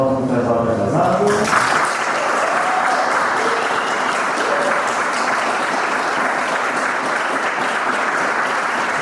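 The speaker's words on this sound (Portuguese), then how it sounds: "Uma salva de palmas para o casal que é casado." Wedding guests at a church ceremony applaud the newlyweds with loud, sustained clapping that fills the space for several seconds, with a brief spoken voice at the very start.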